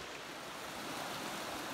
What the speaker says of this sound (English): So there's the creek